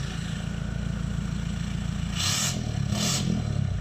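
A Toyota Hilux 4x4 with a full exhaust idles with a loud, close, throbbing rumble, then rises in two short revs near the end.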